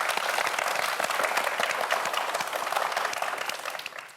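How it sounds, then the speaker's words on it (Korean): A studio audience applauds students on a televised quiz show, a dense, even roar of clapping that holds loud and steady, then tapers slightly at the end. "멋진 승부를 보여준 학생들에게 다시 한번 큰 박수 부탁드립니다."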